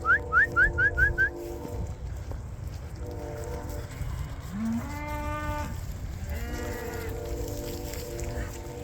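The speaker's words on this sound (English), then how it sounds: "So let's get this cattle drive going" Cattle moo repeatedly in long, drawn-out calls during a winter cattle drive on a muddy farm, several animals calling one after another at close to middle distance, with a brief whistle-like sound at the start.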